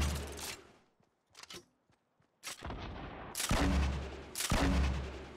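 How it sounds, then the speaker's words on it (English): Grenade launcher blasts in the Fortnite battle royale shooter: several loud, booming bursts in quick succession, the last two heavy and close, separated by brief quieter gaps with faint clicks. "I'm just fucking scaring them with the grenade launcher"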